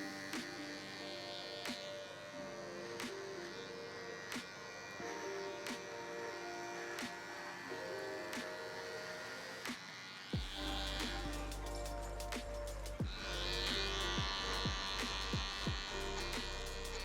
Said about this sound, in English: grab my cordless detailer LI and just come and remove all the bulk